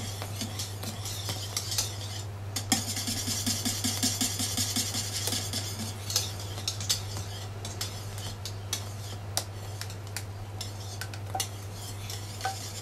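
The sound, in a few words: stirring hot flan preparation into egg mixture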